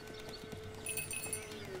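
A goat trails the player through a village in The Witcher 3, its soft clopping hoof steps and a few thin tonal cries sitting over steady in-game ambience.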